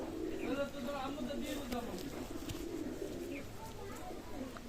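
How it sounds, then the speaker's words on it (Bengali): A pair of Kashuri pigeons coo in soft, repeated low notes close by, with a voice talking in the background. "এখানে এক জোড়া কাশুরি কবুতর আছে"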